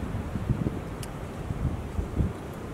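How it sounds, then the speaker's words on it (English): Wind blows steadily outdoors among trees with falling branches, a continuous low rumble and buffeting against the microphone, with gusts swelling and easing and no voices. "I thank any of you guys who actually listened through the wind"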